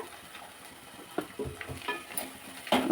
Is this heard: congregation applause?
no